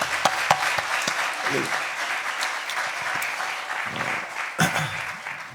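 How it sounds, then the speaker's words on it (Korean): Church congregation applauding at a spring revival meeting, a steady sustained wash of clapping that fills the room for several seconds, with a few louder claps standing out near the end. "우리 좋으신 하나님께 감사와 영광의 큰 박수를 한번"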